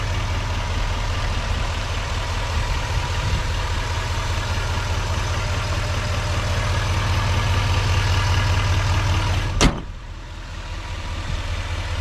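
A diesel Duramax L5P truck engine left stock with emissions intact idles steadily and close, a deep low rumble that cuts off abruptly near the end, leaving a quieter background.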